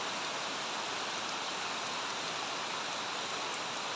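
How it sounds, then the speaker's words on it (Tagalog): Steady, dense hiss of heavy rain pouring down without pause in Bicol, Philippines, even and enveloping, with no voices. "Grabing ulan. Maulan dito sa Bicol"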